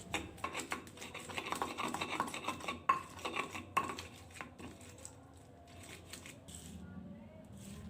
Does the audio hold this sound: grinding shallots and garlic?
yes